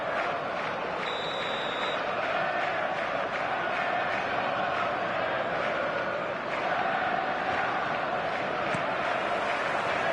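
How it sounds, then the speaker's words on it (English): Stadium crowd in an eFootball match on PS4, a continuous distant roar of cheering and chanting that swells slightly, with a brief whistle-like tone early on. "This crowd doesn't do ordinary, and we should be in for something very special."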